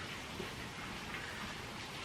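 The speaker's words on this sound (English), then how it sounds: "it's raining pretty hard in Vancouver right now" Steady, dense rain pours down in Vancouver without a break, a constant hiss of heavy drops drumming on surfaces nearby.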